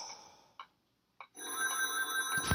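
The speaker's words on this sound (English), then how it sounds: "The phone is ringing." A telephone rings with two short, moderately loud bursts separated by silence, followed by a steadier electronic tone, with no talking.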